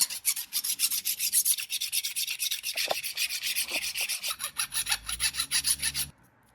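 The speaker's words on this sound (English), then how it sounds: "Just sanding it smooth, filing it smooth, I should say." Rhythmic rasping strokes of a metal file smoothing a drilled hole for a drift tire sprayer scrape back and forth close by, about a dozen even passes before the sound cuts off.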